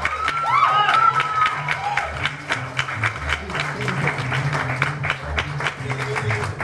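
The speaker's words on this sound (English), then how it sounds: "please welcome the loudest applause in the team for Tan Sri Siko" A live audience applauds and cheers to welcome a guest of honour, Tan Sri, onto the stage at a talk event. The dense clapping is steady and moderately loud throughout, with crowd noise and some voices underneath.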